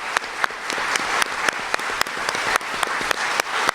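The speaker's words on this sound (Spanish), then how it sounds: "el compañero y amigo Ali Rodríguez, para quien pido un fuerte aplauso también" Audience applause after a speech in Havana, a dense burst of many hands clapping, close and loud, with sharper individual claps standing out.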